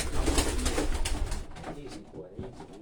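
Racing pigeons cooing close by in a loft, a dense low murmur for the first half that thins out afterward, with some handling noise mixed in.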